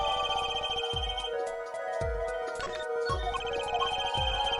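A cell phone ringtone from the video game Apollo Justice plays alone at steady loudness over several seconds, a looping electronic melody with a repeating low pulse beneath it.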